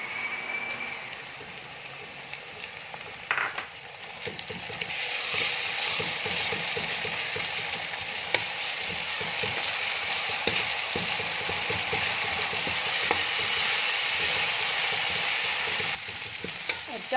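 Onions fry in a pan until light brown, a steady hissing sizzle that swells louder after a few seconds, with repeated scraping stirs and clinks of the spatula against the pan.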